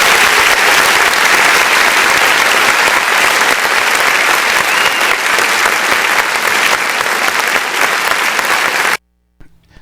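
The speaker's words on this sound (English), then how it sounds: "You can get them a round of applause." Loud, sustained audience applause at a sheriff's gathering, dense clapping that holds steady for about nine seconds and then cuts off abruptly.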